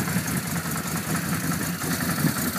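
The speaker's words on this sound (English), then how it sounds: "Hear the engine running very smoothly." A 2010 Can-Am Outlander Max 800 XT ATV engine idles close by, a smooth, even rumble with no talking.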